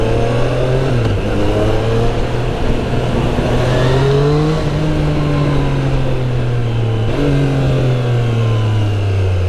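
A 2020 Triumph Street Triple R three-cylinder motorcycle rides through city streets, its exhaust loud and close with a whistling tone. The engine revs rise and fall through gear changes, with no talk.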